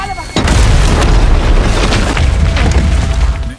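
A bomb detonates in a film scene, a sudden heavy boom followed by a sustained, rumbling roar of debris and noise that fades slightly over a few seconds.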